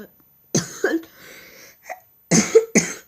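Several harsh coughs from a person who is ill come in quick bursts, two early and two more near the end, close and loud with brief silences between.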